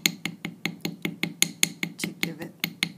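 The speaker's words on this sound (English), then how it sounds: "use the ball end of the hammer, and again gently tap" The ball end of a hammer gently taps a metal ring to texture it, giving a steady run of about fourteen light, bright metallic clinks at an even, quick rhythm, close and clear.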